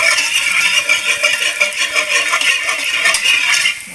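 Spicy baked vegetables are stirred in a pan, a steady bright sizzle with rapid metallic scraping and clinking of the spoon, close and fairly loud, easing slightly near the end.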